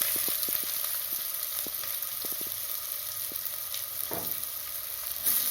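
Chopped onions sizzle steadily in hot oil in a pan already tempered with cinnamon, cloves and cardamom for village-style egg kurma, with soft scattered clicks of stirring over the continuous frying hiss.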